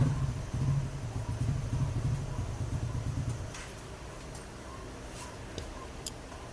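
A neighbor's new motorcycle idles nearby, a faint, low, steady engine hum lasting about three seconds before fading into quiet background noise.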